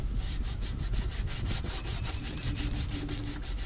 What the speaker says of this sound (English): I just got done sanding the passenger side